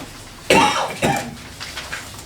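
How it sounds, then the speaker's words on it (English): Two sharp coughs close by, a half second apart, followed by fainter throaty sounds over a low background hiss. "Got me coughing now."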